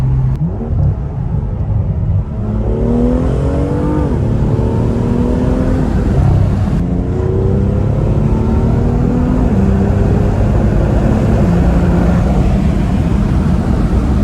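BMW M2 full carbon with a titanium exhaust, sport mode and exhaust valve open, accelerating hard through paddle shifts: a loud, close engine note rising in pitch, dropping at each quick upshift, then climbing again in repeated sweeps.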